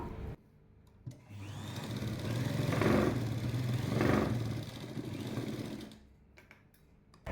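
A sewing machine stitches the lining of a jacket, a close steady motor hum with a fast needle clatter that swells and eases over several seconds between brief pauses.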